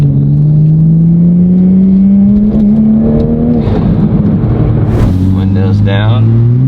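Toyota Supra with a 5-inch titanium single-exit exhaust switched into sport mode gives a loud, close, continuous engine drone that rises and falls through revs, with throttle blips and crackles near the end.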